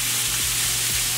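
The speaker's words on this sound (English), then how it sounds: "we're just gonna ignore the bacon cooking in the back" Strips of bacon fry in hot grease, a steady broadband sizzle running the whole moment with a low hum underneath and a couple of soft swooping tones; no talking.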